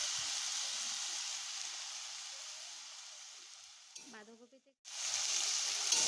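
Cabbage stir-frying with spices in a pan, a steady broadband sizzle that runs unbroken for about four seconds, dips into a brief quieter stir with a few clinks, then returns at full strength.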